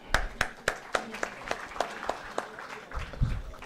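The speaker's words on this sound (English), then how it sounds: "RIO, in his 30th birthday, deserves a warm clapping." An audience claps for the 30th foundation day of RIO at a Bihar Ophthalmological Society celebration. Several strong, evenly spaced claps lead a looser patter of hands that thins out and grows uneven toward the end, with a low thump near the close.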